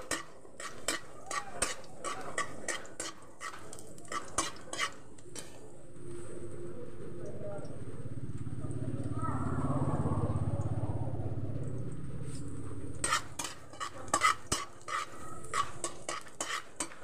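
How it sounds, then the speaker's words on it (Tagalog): Garlic hits hot oil in a pan, sputtering and sizzling under sharp metallic scrapes and clatters of a utensil, with a quieter stretch of low sizzle between bursts of stirring; no one speaks. "So, magigisa na tayo ng sangkap."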